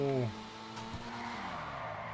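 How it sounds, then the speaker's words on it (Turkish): A drift car in GTA Online from the Los Santos Tuners update finishes an engine rev and then slides with a sustained tire skid, close and fairly loud, with a voice briefly audible. "Bu drift arabası ya gerçekten."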